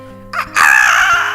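A voice imitates a wild turkey heard in Yosemite, giving one short, loud, close warbling gobble-like call after a brief lead-in sound.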